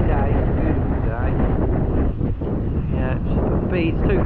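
Heavy wind buffeting a microphone outdoors on a cold day, low rumbling gusts with someone speaking partly under the noise.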